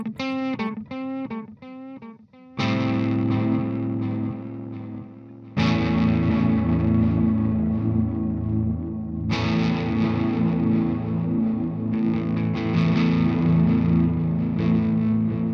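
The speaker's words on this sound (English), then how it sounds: "I'm on a digital delay. It's supposed to be real clean sound, right?" Clean electric guitar chords ring out through a digital delay pedal with the repeats set high, trailing behind each strum, opening with a quick run of short picked notes before sustained chords.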